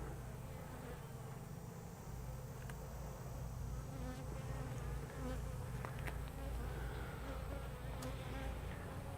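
Calm honey bees swarm around an open hive during an inspection, filling the air with a steady, dense, close buzz that holds unbroken throughout, with no voices.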